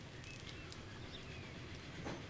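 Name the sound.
passenger train passing by, from the video game Transport Fever 2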